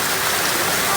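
Steady rain pours down in a backyard with a palm tree, a dense, even hiss of drops hitting surfaces with no break.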